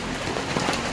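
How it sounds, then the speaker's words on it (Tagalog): Heavy typhoon rain pours onto surfaces in a flooded neighborhood, a dense, loud, continuous hiss with scattered close droplet impacts and no speech. "Pag lumakas pa talaga tong ulan na to na, Diyos ko, baha na talaga."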